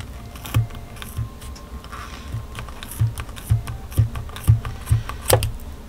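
Several crisp snips spaced about half a second apart, close and fairly quiet, small scissors cutting through yarn strands, with no voices.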